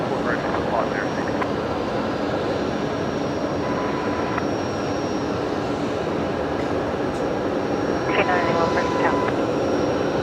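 A Boeing 737 Max 8 just arrived from Perth waits for a bay at Brisbane Airport, its engines giving a loud, steady roar that holds for the whole stretch alongside ongoing talk.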